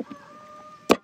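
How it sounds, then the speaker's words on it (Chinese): A chicken at a home farm gives a single short, loud call near the end, following a faint, steady background hum. "听到鸡叫叫唤了。"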